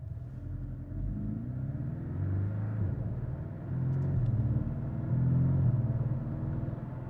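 Porsche Cayman 718 mid-engine sports car cruising at speed, a steady low engine rumble with road noise that swells slightly in a couple of places, continuous and close throughout, no talking.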